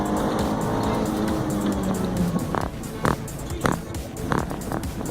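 A front-wheel-drive car races hard at autocross at Evergreen Speedway, engine droning loudly throughout with a rising pitch sweep, while sharp tire squeals and bumps break in during the second half.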